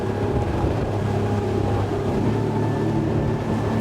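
A Highfield ADV9 motor boat leans through a starboard turn at 28 knots, its outboard engine a steady, loud, close drone mixed with rushing water and hull noise.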